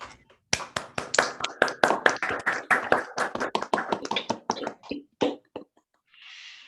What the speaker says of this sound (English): giving the speaker a round of applause